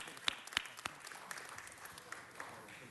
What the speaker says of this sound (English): Let's give Zachy a round of applause